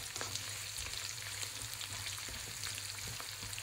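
Meat sautéing in a pan with garlic and onion for sotanghon and canton bam-i, a steady close sizzle of frying running throughout with no pauses.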